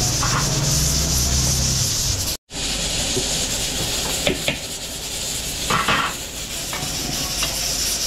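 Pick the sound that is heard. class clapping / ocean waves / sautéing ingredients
sautéing ingredients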